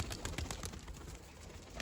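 Several pigeons coo and flutter close by, soft repeated calls over a steady rustling background.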